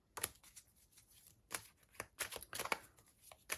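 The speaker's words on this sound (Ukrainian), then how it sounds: "Зараз ми подивимося, карти нам покажуть." Cards riffle and snap in quick, irregular bursts, crisp and close, with short pauses between shuffles.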